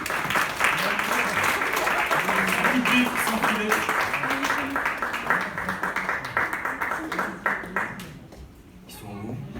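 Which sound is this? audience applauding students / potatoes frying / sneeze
audience applauding students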